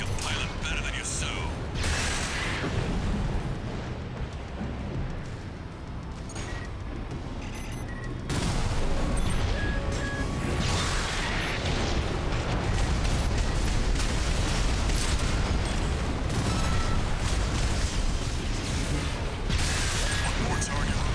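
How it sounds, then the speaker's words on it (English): Gunfire in Armored Core VI: Fires of Rubicon, a mech combat game, as rapid, dense mechanical bursts and booms running almost continuously, with heavier fire after the first third. "Gunfire!"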